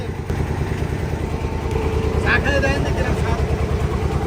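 A trawler's engine drones steadily, a low throbbing rumble throughout, with faint voices briefly rising over it.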